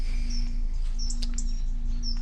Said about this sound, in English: all you can hear is the birds' song.